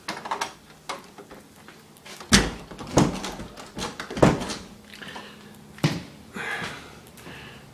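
A door to an outside sunroom in a house is unlocked and opened, giving a series of close clunks, rattles and knocks spaced irregularly, with no talking.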